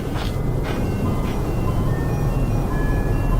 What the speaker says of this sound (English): That's ice cream truck music